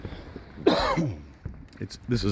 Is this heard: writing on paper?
no